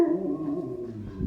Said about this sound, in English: that is our neighbors' dogs, and they hate me so much. They're always barking whenever I'm out here.